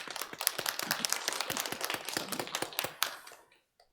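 A church congregation applauds a deacon during Sunday worship with a brisk round of many overlapping claps, steady at first and then tapering quickly to silence near the end.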